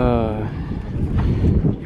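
Strong wind gusting across the open Giza plateau among the pyramids, a steady loud roar buffeting the microphone for the whole stretch, with a brief voiced tone at the start.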